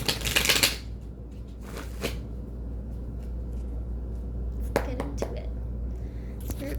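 Thick tarot cards shuffle in short, crisp riffling bursts, one loud at the start and a few softer ones later, separated by a quiet room hum.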